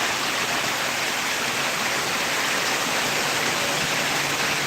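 Torrential rain pours down in a constant loud wash of noise, even and close, with no voices or breaks in the roar.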